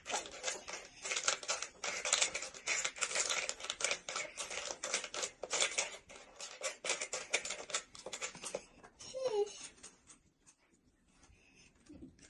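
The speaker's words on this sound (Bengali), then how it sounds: "এখন এইগুলোকে নাড়াচাড়া করবো" Ingredients being stirred in a pan during home cooking give a dense run of scraping, rustling strokes for most of the stretch, close and fairly loud, then thin out into sparse faint clinks near the end.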